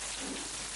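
Heavy rain pours steadily in the Kilinochchi district during a downpour, a dense, even hiss of falling water with no voices.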